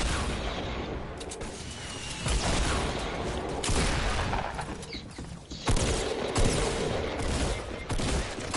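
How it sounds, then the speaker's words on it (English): Sustained gunfire in an online shooter video game, loud and dense with overlapping shots and booms filling the whole stretch without a clear break. "Where the fuck are they shooting from?"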